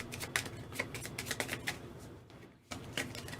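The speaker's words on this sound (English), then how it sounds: "I have no cards in my draw pile, so I need to shuffle real quick" A deck of Dominion cards is riffled and shuffled at a tabletop game, giving rapid, crisp clicking flutters in several quick runs, a brief pause, then one more short shuffle, close and fairly quiet.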